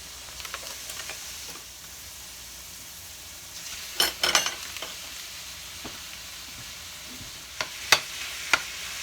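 One pound of ground beef frying in a pan for spaghetti meat sauce, a steady low sizzle with a few sharp utensil scrapes and clinks as it is spread and stirred.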